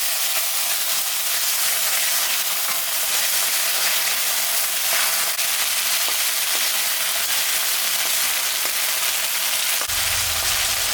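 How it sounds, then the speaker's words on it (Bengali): Fish fat fries in a pan with onion and garlic for a taro stolon curry, a loud, steady sizzle and hiss close by with occasional crackles and no voices. "পেঁয়াজ রসুন ভাজা ভাজা হয়ে গেছে। এখন আমি মাছের তেলটা দিয়ে দেব।"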